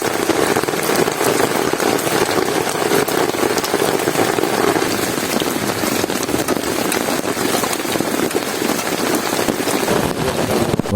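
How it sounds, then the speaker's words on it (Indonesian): Heavy rain pours down on a camping shelter during a thunderstorm, a dense, steady roar of drops drumming on the surface throughout, loud and continuous with no voices. "Dan benar saja, hujan pun turun dengan derasnya."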